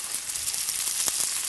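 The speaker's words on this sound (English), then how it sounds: "So we're going to put it in there, nice and sizzly like that" Pounded chicken paillard sizzling in a hot pan, a close, steady bright hiss of frying with faint crackles throughout.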